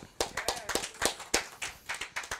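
Clapping at a student athletes' college commitment event at West Side Leadership Academy: a small group claps in loose, uneven bursts, close and fairly sharp, with individual hand strikes clearly separated.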